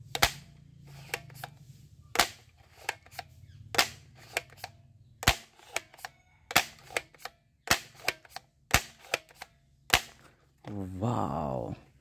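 A blue-and-white toy cap gun fires a string of sharp, loud snapping pops at an uneven pace, about a dozen shots, followed by a short burst of a voice at the end.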